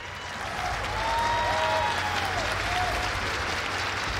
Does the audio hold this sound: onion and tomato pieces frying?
no